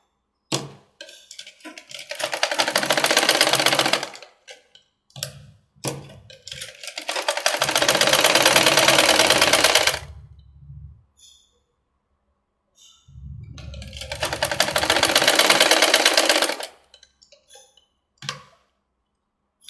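A sewing machine stitches puff sleeves in three long, steady runs of rapid mechanical whirring and clicking. Between the runs come short pauses filled with scattered clicks and fabric handling.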